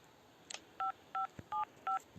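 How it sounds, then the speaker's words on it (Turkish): Four short, evenly spaced telephone keypad tones beep while a call is dialed, clear and alone against a quiet background, with a faint click just before them. "Ben arkadaşlar şurada Melisa'yı arayayım"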